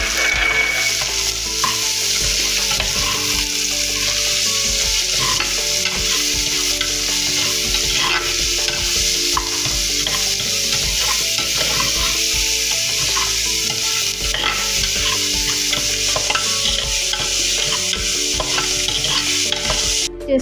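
Vegetables for aloo gobi fry in a pan, a dense continuous sizzle overlaid with constant scraping and stirring, loud and near throughout with no speech.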